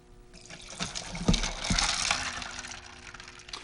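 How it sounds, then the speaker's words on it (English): About eight ounces of water is poured into a blender for a shake, a brief splashing gush that builds, peaks with a couple of thumps, then tapers off, heard up close without talk. "Marianne, go ahead and put that water in there."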